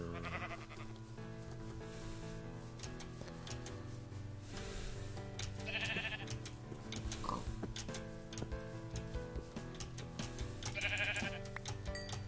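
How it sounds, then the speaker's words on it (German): Minecraft sheep bleats, two short nasal calls spaced apart, sitting over steady game music with no talking. "Ich hab so ein Schaf gekillt vor mir."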